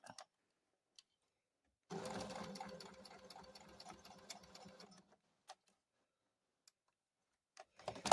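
A sewing machine stitches fabric for a Cranston Christmas Bear in one steady, close run of about three seconds of rapid mechanical whirring, bracketed by quiet handling clicks.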